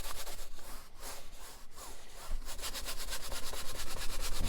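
A brush scrubs oil paint onto canvas for a landscape painting, giving soft, rhythmic rubbing strokes that grow quicker and more regular toward the end, close and fairly quiet with no talking.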